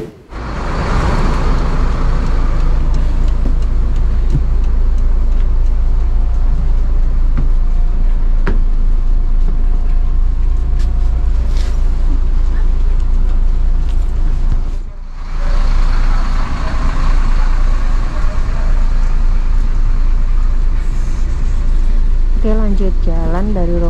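A Sinar Jaya coach bus drives on the road between Magelang and Jakarta, a steady loud engine and road drone heard from inside the cabin, with a brief dip and a few beeps near the end.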